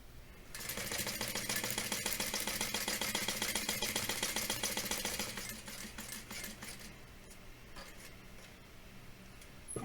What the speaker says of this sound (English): you're going to run a line of stitching up one side